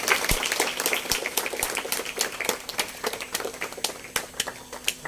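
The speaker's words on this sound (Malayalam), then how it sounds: "ഒരു നല്ല കയ്യടി കൊടുക്കുക." An audience at a seminar claps during an honouring ceremony, a dense patter of individual claps that thins into scattered, sharper hand claps toward the end.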